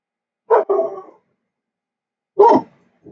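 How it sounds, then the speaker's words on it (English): A dog gives two separate bark-like bursts, close and fairly loud, with silence between them and a faint third sound at the very end. "I think I'm sorry about the dogs."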